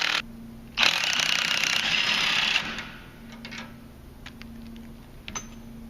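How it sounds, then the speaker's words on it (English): An impact driver spinning a nut off a bolt during a CargoGlide CG1000 bearing replacement: a loud, steady rattling burst of about two seconds, then quieter clicks and handling noises. "Impact driver makes it really fast and easy."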